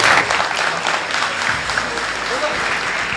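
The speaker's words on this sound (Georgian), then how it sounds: "აპლოდისმენტებით გავაცილოთ ემრე და ვუსურვოთ მას ჯანმრთელობა" Spectators at a GAMA MMA 2 fight event applaud in a dense, continuous wash of claps with faint crowd voices mixed in, loud and sustained for the whole moment.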